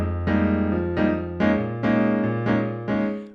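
Piano played in a Latin style, steady repeated chord hits in a bouncy syncopated pattern over a shifting bass line, about seven attacks, clear and alone.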